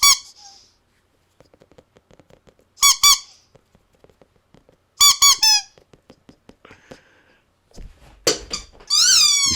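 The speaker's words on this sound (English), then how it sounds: "Just calm and relaxing ASMR squeaky toys." A pet playing with squeaky toys: sharp, rubbery squeaks come in short bursts between quieter spells of faint ticking and chewing, loud and close, with a final squeak series at the end.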